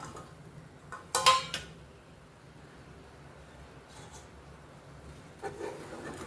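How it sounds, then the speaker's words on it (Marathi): A metal lid lifted off a steaming pot of modak rice-flour dough gives a brief clattering knock with a short rub, followed by quiet kitchen ambience and a couple of faint later clinks. "आपण झाकण काढूया"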